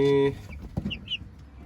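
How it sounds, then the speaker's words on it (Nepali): Giriraj chickens in a flock with several roosters give a few close, short clucks and squawks against quiet farmyard background. "गिरिराज कुखुरा"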